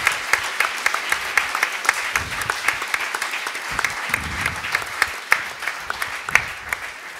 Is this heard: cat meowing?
no